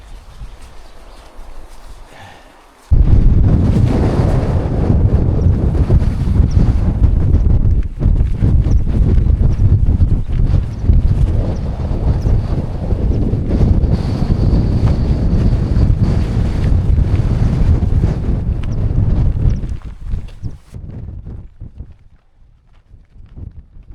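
Strong wind on an exposed hilltop stretch of the Dales High Way roars and buffets the microphone, loud and continuous for most of the clip before dropping away to near quiet at the end.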